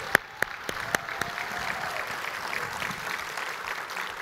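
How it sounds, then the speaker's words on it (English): Audience applause at the Avon Connect 2024 convention, a steady wash of many hands clapping with a few sharp louder claps near the start, fairly distant and continuing alone without speech. "Give yourself a round of applause."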